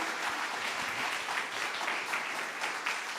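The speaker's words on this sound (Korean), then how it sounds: "말씀을 전하시러 나오실 때 우리 더 힘찬 박수로 우리 선교사님 모시길 바랍니다." A church congregation at an Easter thanksgiving music service claps warmly to welcome a missionary to the pulpit, a dense, steady applause of many hands filling the room without pause.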